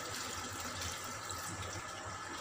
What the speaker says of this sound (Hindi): अब हम इस पर ठंडा पानी डालेंगे ताकि ये जुड़ ना जाए